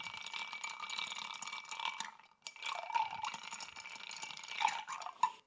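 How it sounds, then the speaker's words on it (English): Ice clinks and rattles in a glass as a pineapple cocktail is stirred, a quiet, close, continuous swirling with small sharp taps and a brief pause midway. "Add a little ice. Give this a good stir."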